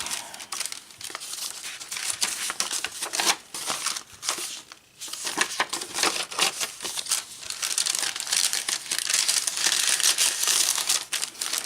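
A paper bag is handled close up, giving a continuous run of crisp crinkling and rustling with irregular louder crackles and brief pauses.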